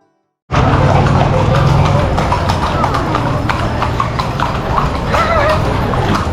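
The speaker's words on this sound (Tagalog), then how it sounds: "Kabayo." Horse hooves clip-clopping steadily on a road during a long ride in Ilocos Sur, loud and close throughout, with voices talking over the rhythmic hoofbeats.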